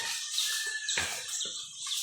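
Hens clucking in short, scattered bursts over a steady hiss of background noise, fairly close by, with no talking.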